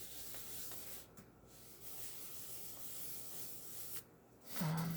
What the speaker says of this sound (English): sometimes I turn it over and rub a little